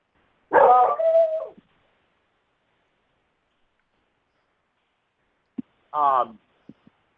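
A dog barks in two separate bursts, a longer throaty one and then a short yelp a few seconds later, with a couple of faint clicks and silence in between.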